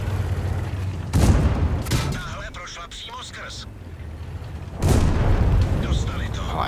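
Tank cannons fire in World of Tanks, a Czech Kolohousenka on the Kloster map, giving two loud booming shots a few seconds apart with rumbling tails, someone speaking between them.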